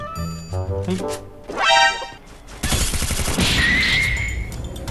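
Gunfire in the video game Valorant: a tonal in-game effect gives way to a dense, loud burst of rapid shots that continues to the end, with no talking heard.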